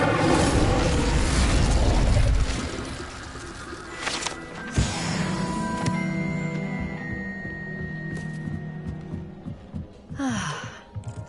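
An Incendiary spell explodes in the video game Hogwarts Legacy with a loud, fiery roaring burst that fades after a couple of seconds, followed by softer pops and ringing magical tones.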